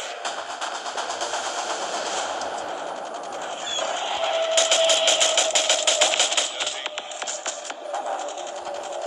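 Sustained automatic weapon fire in Call of Duty Mobile, a dense rattling stream of shots that swells louder midway, heard through game audio with a faint radio-like background and no talking.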